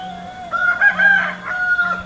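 A fighting rooster crows once nearby, loud and drawn-out, with a steady faint hum in the background and no talking.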